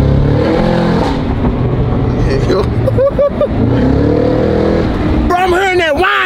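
A Cadillac CT5-V Blackwing does a burnout, its engine revving hard close by with a rising and falling roar and supercharger whine, while people talk excitedly over it throughout.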